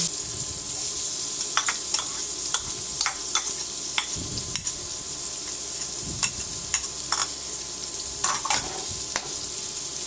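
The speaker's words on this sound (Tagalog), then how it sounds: "unahin na po natin ang sibuyas igisa lang po natin ng maigi hanggang sa mag-translucent ang sibuyas and then isusunod po natin ang bawang" Onion and garlic sauté in oil in a pan for ginisang repolyo with pork, giving a steady close sizzle punctuated by regular spatula clicks and scrapes against the pan.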